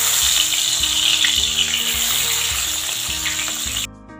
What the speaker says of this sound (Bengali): তেলটা খুব ভালোভাবে গরম হয়ে গেছে, এবার আমি মাছগুলোকে ভেজে নেব